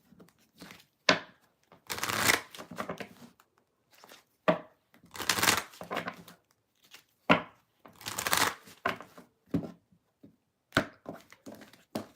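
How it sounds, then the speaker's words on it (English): Tarot cards are shuffled in several brisk bursts of riffling and slapping, close up, with short pauses and a few taps between rounds. "Shuffle, shuffle."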